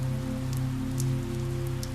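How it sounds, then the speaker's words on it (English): Gentle rain tapping steadily on a window, a soft continuous patter with a low steady hum beneath, close and even throughout with no voices. "where the rain taps gently on the window"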